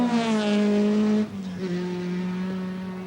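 A 2.3-litre, 16-valve Chevette rally car at a forest rallysprint revs hard with a loud, near engine tone, then shifts abruptly into a lower, steadier note as it pulls away.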